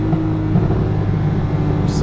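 A Porsche 911 Carrera 4S idling after a hard launch, its exhaust giving a low, steady rumble with faint intermittent burbles and pops, close and fairly loud inside the car.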